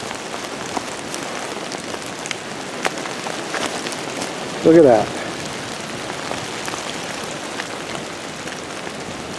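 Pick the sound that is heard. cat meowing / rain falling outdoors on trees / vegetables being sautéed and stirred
rain falling outdoors on trees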